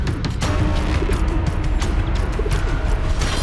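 A pigeon coos inside a cave shrine in the Amarnath area of Kashmir, soft repeated calls set against a dense, constant rushing background that nearly buries them.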